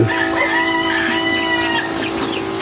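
Chickens cluck and a rooster crows close by at a chicken farm, a busy layered chorus of fowl with no talking.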